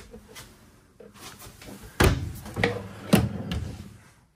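Big kitchen storage drawer in a 2024 Gulf Stream B Touring Cruiser 5210 Class B+ motorhome being worked, with several close, loud knocks and slides as it opens and shuts, each followed by a short rattle.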